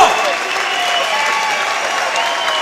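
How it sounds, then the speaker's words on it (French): A crowd applauds steadily and loudly after a fencing bout, with dense clapping that carries on throughout and cheering mixed in. "On peut les applaudir."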